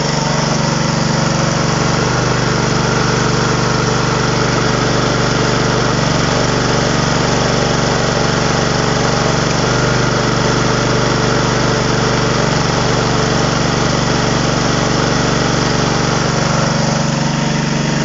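A 3 kW, 1420 rpm asynchronous motor converted into a generator runs loudly and steadily throughout, a constant droning hum with no pauses or change in pitch.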